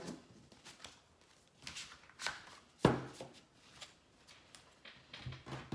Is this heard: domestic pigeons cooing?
no